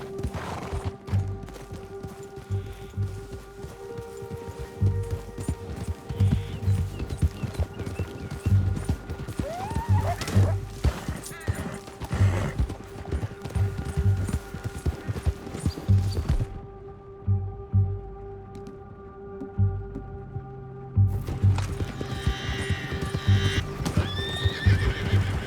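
A horse in Red Dead Redemption 2 gallops with rapid, rhythmic hoofbeats, whinnying loudly several times over gunfire and game music, with a quieter stretch before the galloping resumes.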